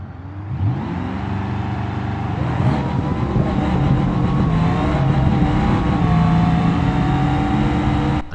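A drag race car from a racing video game launches and makes a full pass, its loud supercharged engine roaring steadily at high revs for about eight seconds before cutting off abruptly.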